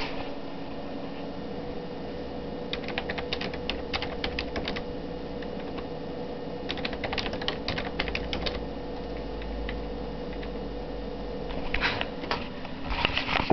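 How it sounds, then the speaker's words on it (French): Someone types a password on a computer keyboard in scattered bursts of light key clicks over a steady background hum, with pauses between groups of keystrokes. "Donc, je vais me mettre sur le clavier."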